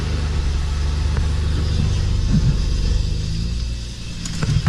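A Mitsubishi Eclipse engine idles in reverse with a freshly replaced transmission, giving a steady low rumble throughout with a slight dip near the end, close by and with no talking.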